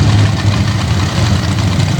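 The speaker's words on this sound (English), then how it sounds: "Olrogi with a 760 cubic inch Goodwin competition engine." A modified race car with a 760 cubic inch Goodwin competition engine roars loudly and steadily at a drag strip, its deep, continuous rumble filling the whole moment with no talking.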